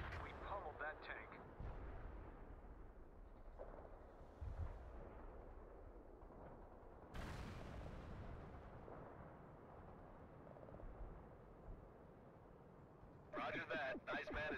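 Heavy airstrike explosions and booming blasts from a close air support strike in the World in Conflict Soviet Assault game, several rumbling impacts with a sharp burst midway, and a voice talking in between.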